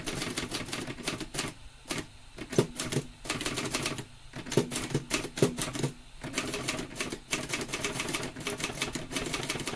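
A manual typewriter clatters close up with rapid, uneven keystrokes in bursts, separated by brief pauses that sound like carriage or line moves, with no talking.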